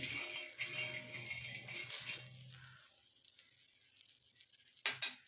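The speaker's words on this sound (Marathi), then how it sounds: "तवा गरम करून घेतला आहे त्याच्यावरती हलकं तेल घालते" Oil heating on a hot tava for bread sandwiches, a soft crackling sizzle with a low hum that fades after a few seconds, followed by a brief metallic scrape near the end.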